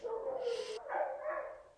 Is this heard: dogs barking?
yes